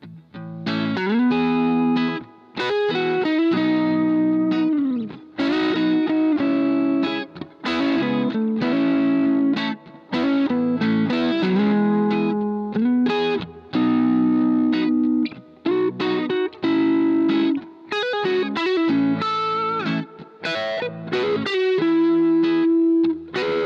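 Electric guitar with distortion and chorus effects plays a demo of melodic chord shapes, phrases of ringing chords and note runs separated by short pauses, alone without talk.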